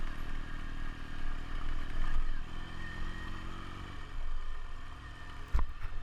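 A Ural sidecar motorcycle bounces down a bumpy road, its engine droning steadily with rattling clatter over the rough surface and a sharp jolt near the end.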